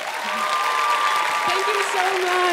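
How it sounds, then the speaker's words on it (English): An audience at an anime convention applauds a cosplayer, a steady, full wash of clapping that carries on while a voice speaks over it. "That deserves another applause."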